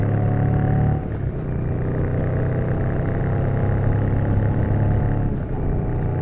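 A Royal Enfield Shotgun 650 motorcycle rides along with a steady, loud engine drone and a brief dip where a gear change breaks the tone.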